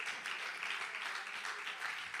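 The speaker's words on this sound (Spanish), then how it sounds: "Deme un aplauso" A church congregation applauding during a sermon, a quiet, steady wash of clapping heard from a distance for about two seconds.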